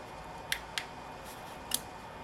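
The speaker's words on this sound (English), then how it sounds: "So cut little wedges out." Scissors snip wedges out of the corners of a piece for a dollhouse nightstand craft, giving three short, crisp cuts spaced apart over a quiet background.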